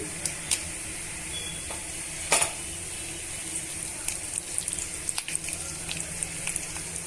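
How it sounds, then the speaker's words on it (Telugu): Chana dal and broken dried red chillies frying in oil, a steady soft sizzle with scattered crackles and pops, close and fairly quiet, alone without talk. "వన్ టేబుల్ స్పూన్ శనగపప్పును వేసుకొని వేయించుకోవాలి ఇందులోనే తరిగి పెట్టుకున్న తుంచి పెట్టుకున్న ఎండుమిరపకాయలు కూడా వేసుకోండి"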